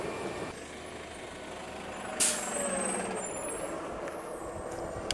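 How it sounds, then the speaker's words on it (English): A city bus idles and rumbles nearby in traffic, a low continuous engine drone broken by a sharp air-brake hiss partway through, with faint beeps and street noise around it. "This bus is going to slow me down."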